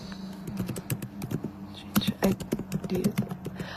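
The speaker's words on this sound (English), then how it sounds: "Sorry, I'm just, like, typing this out." Rapid, uneven clicks of fingers typing on a computer keyboard during a recorded interview, close and fairly quiet, with a soft voice murmuring underneath.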